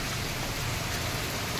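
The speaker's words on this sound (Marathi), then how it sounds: "पाऊस बघा किती जोरदार आलाय." Heavy rain pours down during a bus journey, a dense, even roar of falling water with no voices, steady and close throughout.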